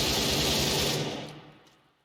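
Rapid AK-47 automatic fire in a Minecraft game with the WeaponMechanics plugin: a dense, loud burst of shots for about a second, then fading away into quiet.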